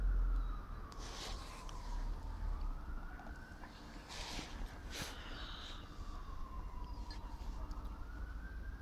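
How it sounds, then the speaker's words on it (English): A fire engine siren wails in rising and falling sweeps throughout, moderately loud and somewhat distant, with a few short honking horn blasts in between over steady street rumble. "That horn's not an ambulance, that's the fire engine."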